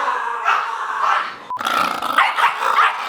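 A big, heavyset dog barks and growls in loud, rough bursts that run through the whole moment, close to the listener with no talking.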